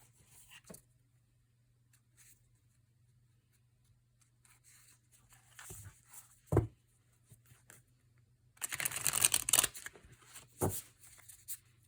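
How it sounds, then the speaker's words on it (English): Quiet riffling of a thin cardstock mini card deck, a few soft brushes and a louder burst of shuffling near the end, with a low hum beneath. "It's a thinner cardstock, which makes it really nice for a mini deck because it's pretty easy to shuffle."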